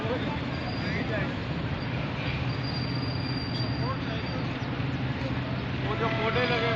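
Karachi Circular Railway trial train running past Gani Chowrangi in Karachi, a steady loud rumble and clatter from on board, continuous throughout with faint voices in the background.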